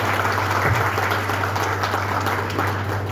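An audience at a formal stage event claps in a steady, dense burst of applause that fills the room, loud and continuous over a low background hum.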